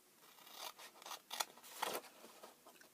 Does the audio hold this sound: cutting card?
yes